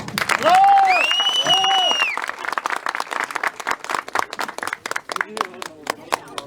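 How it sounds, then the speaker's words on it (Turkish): Audience applause at a fishing tournament trophy ceremony: a loud whistle and voices open it, then scattered hand clapping builds into dense, lively applause before thinning out toward the end, with people talking underneath. "Bir alkışlayalım."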